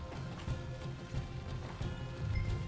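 Horses gallop in Red Dead Redemption 2 with steady, continuous low hoofbeats that pulse in waves, moderately loud and with no voices over them.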